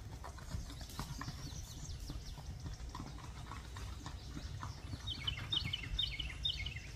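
A 6-year-old black-and-white spotted saddle horse gelding gaits along a trail toward a creek, its hooves clip-clopping in a quick steady rhythm while birds chirp nearby.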